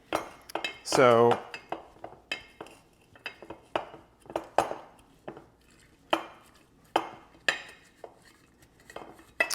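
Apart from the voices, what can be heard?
muddler pressing herbs and lemon into sugar in glass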